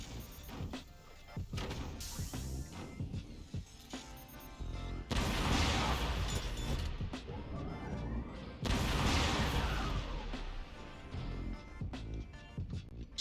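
Rocket and firework weapons firing in the physics-based fort battle game Forts, producing dense layered whooshes, crackling bursts and booming impacts that swell into two sustained loud barrages, with occasional commentary underneath.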